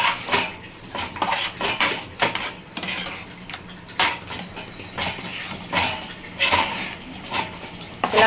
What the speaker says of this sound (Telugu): ఇలా కలుపుతూ ఉండాలండి 1 నిమిషము